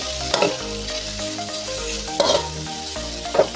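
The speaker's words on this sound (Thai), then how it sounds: "ขิงอ่อนผัดใส่กันเลยครับผัดใส่มันหอมกันครับ" Young ginger being stir-fried in a hot pan, a loud close sizzle with spatula scrapes and clanks against the pan at a few points, no talk.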